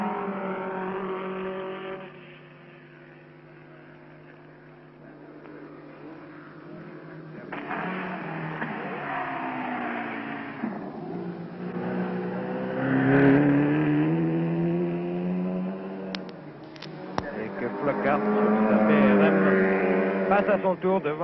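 A race car passes on a circuit during an auto race, its engine rising and falling in pitch as it comes through the corner and goes by, loud and continuous with a commentator speaking over it.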